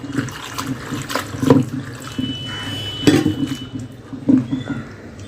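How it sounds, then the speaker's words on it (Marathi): Shredded cabbage is rinsed in a vessel of water, with several near, bursty splashes and sloshes at irregular intervals over faint running-water noise. No one speaks. "दोन पाण्यामध्ये आपण ह्या भाजीला धुवून घेणार आहोत"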